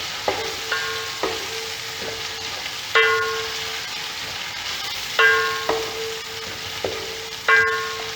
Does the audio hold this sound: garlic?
yes